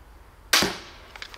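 A crossbow fed from a high-capacity bolt magazine fires a single sharp, loud snap. The twang decays quickly, followed by faint mechanical clicks.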